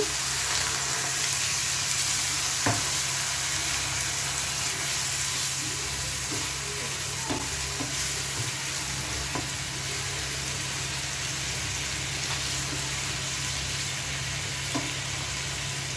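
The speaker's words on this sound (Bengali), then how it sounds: "এবার দেখো বন্ধুরা, আমি কিছুটা জল অ্যাড করছি।" A pan of Bengali fish curry, morola macher jhal with potatoes, hisses and sizzles steadily over high heat after water goes in, with a continuous frying crackle and occasional faint clicks from stirring.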